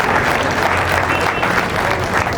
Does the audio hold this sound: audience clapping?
yes